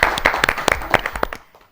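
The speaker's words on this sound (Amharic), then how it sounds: "አጨብጭቡላችሁ በደንብ አድርጋችሁ።" An audience in a children's TV studio quiz show gives a short burst of uneven clapping that fades out after about a second and a half.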